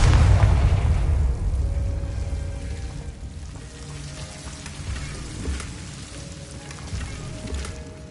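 Confringo fire spell explosion in Hogwarts Legacy on PS5: a loud, deep boom at the start that rolls off into a long crackling, rain-like rumble, with no talking.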